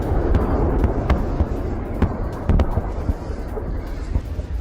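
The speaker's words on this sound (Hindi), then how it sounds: "ज़ैपोरिज़िया में फास्फोरस बॉम्ब का इस्तेमाल किया गया है" Phosphorus bomb strikes in Zaporizhzhia during wartime, heard as scattered sharp pops and crackles over a constant dull rumble, fairly distant and irregular.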